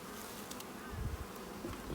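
Honeybees buzz softly and continuously around an open beehive during an inspection, a faint, close hum with small fluctuations and a slight swell toward the end.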